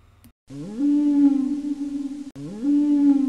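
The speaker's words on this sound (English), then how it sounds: "Was that a whale sound?" Two long, rising whale calls, each swooping upward into a sustained tonal moan, separated by a brief pause.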